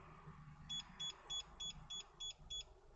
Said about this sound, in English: We've just received 7 bleeps.